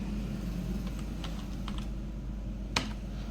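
Typing on a computer keyboard while entering customer details into loan and EMI collection software, scattered light key clicks with one sharper stroke near the end over a steady low hum.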